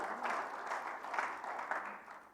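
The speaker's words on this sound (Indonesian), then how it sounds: "boleh berikan tepuk tangan yang meriah bagi Tuhan" A church congregation at a Sunday worship service claps together in steady, rolling applause that sounds moderately distant and fades slightly toward the end.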